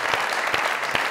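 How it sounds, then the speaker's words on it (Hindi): An audience claps loudly for an actor at a stage event, a dense, steady wash of applause filling the whole moment without a break, with no voices over it. "आप लोगों की जोरदार तालियों में"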